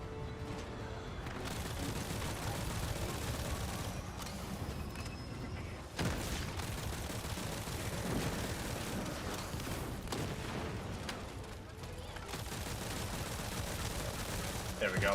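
Explosive weapons blast repeatedly in a video game boss fight, a dense run of booms and gunfire-like bursts with a brief dip near six seconds, while a player talks over the action.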